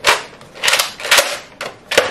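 A toy gun fires five sharp, loud snapping shots at close range in quick, slightly uneven succession, each a short bright crack.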